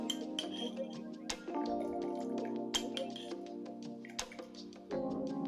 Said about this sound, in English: You can use a spoon to aid in separation by swirling around the sieve so the liquid can drain through